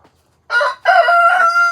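Backyard chickens, a rooster among them, crow loudly twice in close succession, the second call long and drawn out, with a brief cluck before it.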